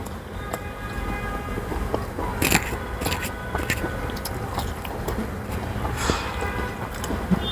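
Someone bites and chews a Herfy chicken burger layered with cucumber, salad and sauce, giving close crunchy bites and wet chewing in irregular bursts over a steady background rumble.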